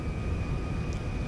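A Boeing 747 jumbo jet's engines drone in the GTA 5 video game, a steady, even roar with a thin high whine held throughout.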